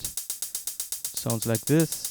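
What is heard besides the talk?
drum machine closed hi-hat 16th notes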